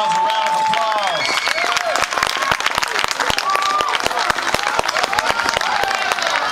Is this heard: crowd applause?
yes